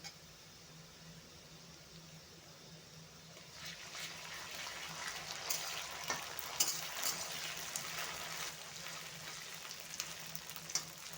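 Ginger garlic paste frying in a pan, quiet at first, then a steady hissing sizzle swells in a few seconds in and carries on with faint crackles and occasional stirring clinks.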